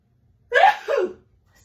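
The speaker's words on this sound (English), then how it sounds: "1 second as I go to sneeze." A single sneeze, a sharp breathy burst followed by a shorter release, close and clear against silence.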